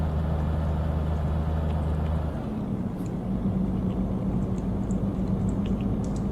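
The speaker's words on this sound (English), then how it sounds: "My lorry doesn't sound very healthy right now." A damaged lorry engine in Euro Truck Simulator drones steadily with a low rumble, its tone shifting partway through while running continuously at close range.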